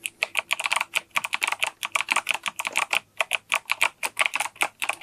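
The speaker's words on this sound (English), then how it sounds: "And I love the key switches in here." Clicky key switches on a reproduction Commodore 64 keyboard rattle out a fast, steady stream of close, crisp keystrokes with no talking.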